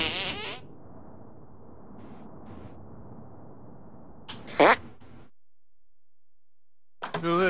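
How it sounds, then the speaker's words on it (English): A cartoonish fart detonation from the South Park: The Stick of Truth video game: a brief, sharp burst in the middle, set among faint hissy game noise and short clipped sound effects at the start and end. "Make your fart detonate behind me."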